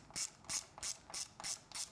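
Ratcheting T30 Torx driver working screws on a Triumph Street Twin handlebar, six quick evenly spaced clicking ratchet bursts close by and quiet, with no talking.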